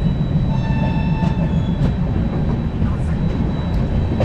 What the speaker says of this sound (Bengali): 8টা 50 মিনিট ট্রেন ঢুকলো রক্সল জংশন